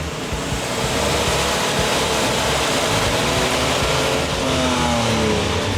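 A Buick Grand National with a swapped-in Hurricane engine accelerating hard, its loud, close engine roar climbing steadily in pitch through a gear change, filling the whole stretch with no voices.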